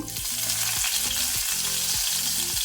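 Crushed garlic cloves frying in hot coconut oil over a low flame, a steady close sizzle with repeated scraping strokes of a spoon stirring in the pan.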